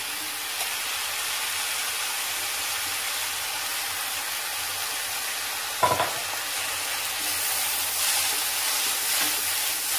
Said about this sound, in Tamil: இது நல்லா அந்த ஈரப்பதம் போற அளவுக்கு கிண்டிக்கலாம்.